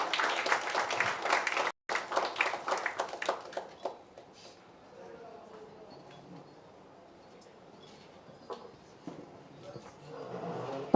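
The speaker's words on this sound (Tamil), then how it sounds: "ஒரு பலத்த கைத்தட்டல் கொடுத்துடலாம்." Audience applause at a music video promo launch, a dense burst of clapping that fades out within a few seconds and leaves quiet room noise, with a few scattered claps and voices toward the end.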